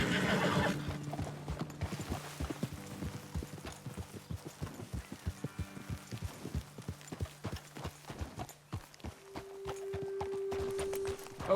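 Horses in the video game Red Dead Redemption 2 walk with a crisp, regular clip-clop of hooves, close and distinct, with a loud whinny near the start and a held tone later over quiet ambience.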